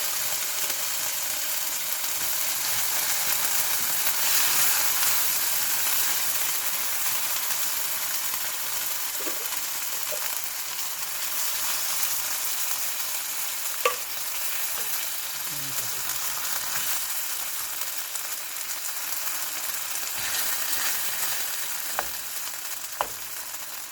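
Sardines fry in a stir-fry pan, giving a steady, close sizzling hiss with a few faint stirring clicks and scrapes scattered throughout.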